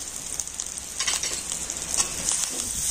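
A potato mixture with finely chopped green chillies is stirred in a hot pan, a spoon scraping and turning it over a continuous soft sizzle, with a few louder strokes near the middle.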